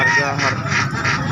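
Ducks and other poultry at a market kiosk honk and quack loudly and continuously at close range, with repeated nasal calls overlapping and voices mixed underneath.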